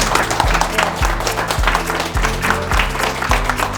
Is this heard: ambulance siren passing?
no